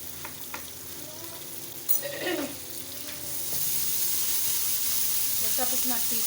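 Masala spices frying in hot oil in a home kitchen pan for mixed vegetable curry, a steady close sizzle and hiss that swells louder partway through, with a few stirring clinks.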